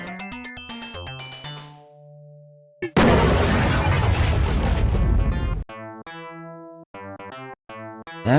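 A grenade explodes in the video game Power DoLLS, a sudden loud noisy burst lasting a few seconds. Electronic game beeps and tones come before and after it.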